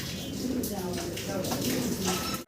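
Dragon pigeons, a pair of fancy breed birds, coo steadily in low repeated throaty calls close by, blending with someone talking over them throughout.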